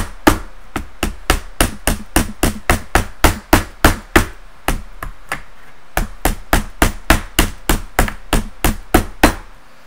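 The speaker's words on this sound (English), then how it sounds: "I'm going to continue folding this edge over with a good old claw hammer" A claw hammer strikes repeatedly, folding over the metal edge of a homemade alcohol stove, a fast, regular series of sharp, loud metallic blows close up, with brief pauses between bursts and no talking.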